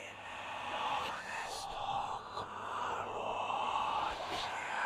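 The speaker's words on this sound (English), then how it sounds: "This is actually me whispering in Latin, and it's reversed, and it's panning around the room" A man whispers in Latin, played backwards and drenched in reverb so it sweeps around a room; a steady, breathy hiss of continuous sibilant murmuring at moderate level with no clear pauses.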